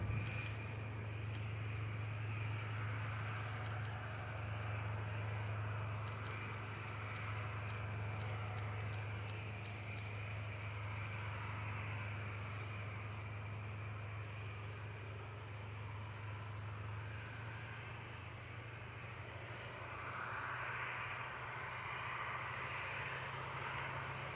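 An airliner departing Gold Coast Airport produces a continuous, fairly distant jet rumble with a low steady drone, alone and without talk.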